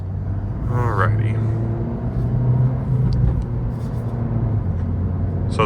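A Honda Civic Si, 10th generation, drives on the road with a steady low engine drone and road rumble, close and continuous while someone talks over it.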